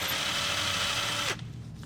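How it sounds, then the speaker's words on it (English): An impact wrench whirs and rattles steadily while driving a wheel stud on a drift car hub, close and loud for over a second before cutting off abruptly into quieter room noise. "I'm gonna hit it with the impact and you guys can see what it does."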